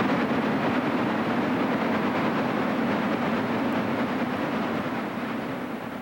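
Chesapeake and Ohio Class J3A steam locomotive 610 hauls the eastbound Sportsman passenger train near Lenexa, a dense, continuous rolling rumble and rattle of wheels on rails that stays loud and fades slightly at the end.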